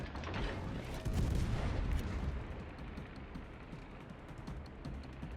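Heavy British cruiser Nottingham firing its 203 mm guns in World of Warships, a dense rumbling barrage of booms that swells early and then settles into a sustained loud roar.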